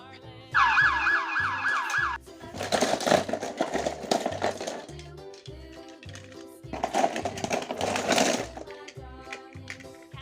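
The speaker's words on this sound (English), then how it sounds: "Fire rescue." A rising and falling wail of an emergency siren, then repeated bursts of siren sound over a rhythmic pulsing beat, fairly loud and close.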